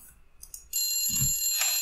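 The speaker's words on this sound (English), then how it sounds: "so is this the phone that is ringing?" Telephone ringing in the horror video game The Suicide of Rachel Foster, a bright electronic ring that cuts in suddenly and holds steadily after a few faint sounds, with a soft low thump partway through.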